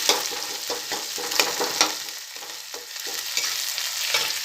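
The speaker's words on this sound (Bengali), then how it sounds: "চলো পেঁয়াজটাকে একটু লাল লাল করে ভেজে নিই।" Chopped onions fry in mustard oil in a hot kadai, giving a continuous, close sizzle with brief surges of crackle as the pan is stirred, with no voices.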